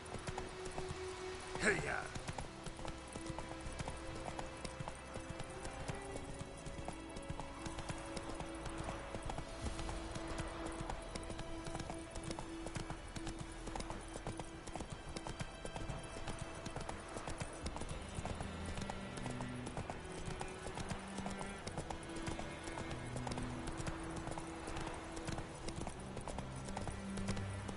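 Roach the horse galloping in The Witcher III, a continuous rapid clatter of hooves over a game music bed, with someone shouting briefly near the start.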